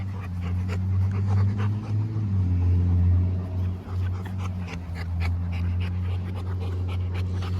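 A Rottweiler pants heavily and close by in steady rapid breaths, with a faint whimper and a low vehicle rumble running underneath throughout.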